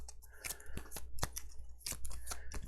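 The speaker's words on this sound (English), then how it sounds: "And I guess I should probably shuffle" A deck of cards being shuffled during a Kinfire Chronicles board game session: several crisp, papery riffling bursts close up, repeating in a quick, uneven rhythm with no talking.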